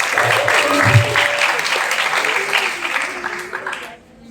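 Loud, dense applause from a school audience of teachers and students, sustained for several seconds before tapering off quickly at the end, with some voices mixed in.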